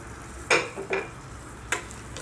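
Thick tomato puree, ground without water, goes into onions frying for green peas curry. Three short scraping stirs stand out over a faint, quiet sizzle, with no talking.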